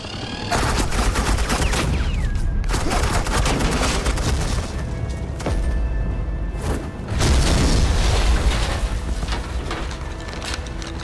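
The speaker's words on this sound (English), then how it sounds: "This is Agent Quinn, suppressing fire." Suppressing gunfire in Telltale's Batman Season 2 video game: dense, continuous bursts of rapid automatic shots and booming impacts fill the whole stretch, loud and close, with no talking.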